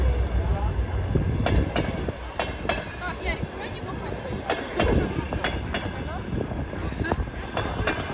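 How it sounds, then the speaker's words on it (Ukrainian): A train rolls along nearby with rhythmic clickety-clack of wagon wheels over rail joints and a steady rumble, while people talk over the noise. "Все, ми будемо сідати в потяг."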